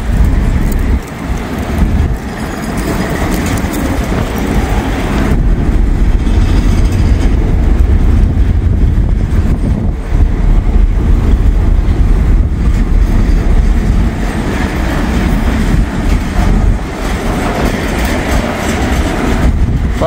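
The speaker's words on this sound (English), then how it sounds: "But they're going much slower than the last train." A slow freight train rolls past a rural farm-country depot on a warm November day, a steady loud rumble with wheel clatter throughout and no voices.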